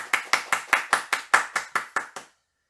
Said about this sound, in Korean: 우리 네 분 다 같이 박수로 축하하겠습니다.